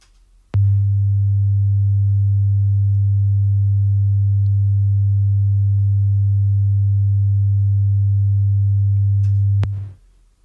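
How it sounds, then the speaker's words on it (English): A solid 100 Hz sine test tone starts abruptly, holds perfectly steady and loud for about nine seconds, then cuts off, with near silence before and after. "This is just a solid test tone of 100 Hz."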